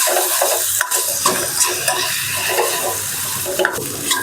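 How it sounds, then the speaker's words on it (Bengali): Chicken momo filling is stirred in a hot pan: a loud, close sizzle with repeated scraping strokes and light clinks against the pan, the stirring coming in uneven bursts with no speech. "একটু নেড়ে এটা নামিয়ে নেব।"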